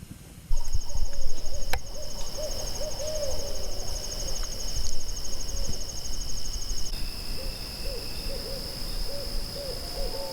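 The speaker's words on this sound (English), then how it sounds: "I hear an owl." Soft, repeated owl hoots at a steady rhythm in the distance, over a constant high-pitched chorus of crickets at night at a campground in Mount Blue State Park, Maine.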